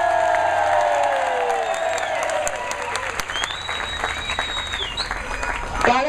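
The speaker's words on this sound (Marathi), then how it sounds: "टाळ्या थोड्या वाजवा।" Sustained crowd applause at an India Against Corruption gathering of Mumbai's dabbawalas, dense and steady for about six seconds, with a few voices and a cheer or whistle rising over the clapping before it swells briefly at the end.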